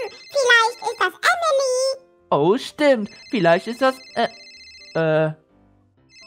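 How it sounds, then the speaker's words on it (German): A telephone rings at 3 a.m. in a Minecraft game, a steady electronic ringing tone heard under excited young voices talking. "Das ist aber nicht unser Telefon, das klingelt, aber das ist hier ganz in der Nähe"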